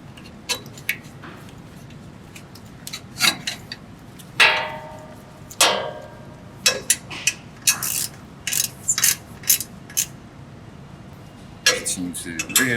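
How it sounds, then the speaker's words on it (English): Bolts on a BluePrint Automation Collator 200 packaging machine tightened with a screwdriver, with repeated sharp metallic clicks, ratcheting scrapes and clanks of tools against metal, loud and close in irregular bursts. "Tighten the first bolt down. Remove the screwdriver. Do the same thing on the other side."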